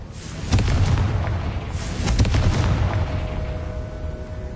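A Confringo fire spell in the Hogwarts Legacy video game sets off a loud booming blast with crackling fiery bursts that rumble and then fade into a low tail.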